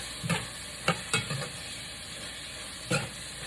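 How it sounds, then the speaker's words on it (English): Steamed cabbage stirred in a pot with onion and pepper nearby, a few quick scraping knocks of a utensil against the pot over a soft, steady background hiss. "Give this a quick stir."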